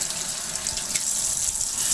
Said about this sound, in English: I'm just gonna turn on some hot water